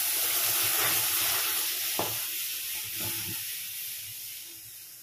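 Half a litre of milk hits hot caramelized sugar for sweet mishti doi, setting off a loud hissing sizzle that starts strong and gradually fades, with a few faint clinks.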